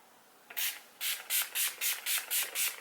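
A quick series of short, soft hissing sprays of makeup finishing spray from a close pump bottle: one squirt, a pause, then about seven more in an even rhythm.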